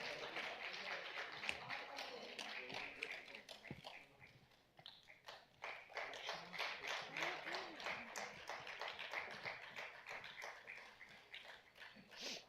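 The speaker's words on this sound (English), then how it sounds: "A big round of applause for Rashmika." Applause from a children's award ceremony audience, rapid faint clapping that dips briefly midway, then swells again and continues steadily throughout.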